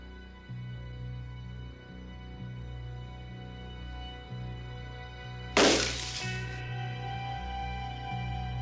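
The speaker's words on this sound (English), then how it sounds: "this young history teacher is going to try to will this sheet of glass to shatter" A sheet of glass shatters suddenly in one loud, bright crash that sprays fragments and quickly decays, set against a low, steady tonal drone of background music.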